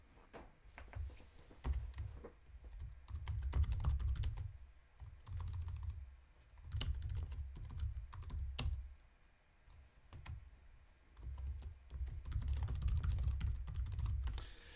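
Fingers type on a computer keyboard in irregular clusters of soft clicks and key taps, steady across the whole stretch at close range, with no voices.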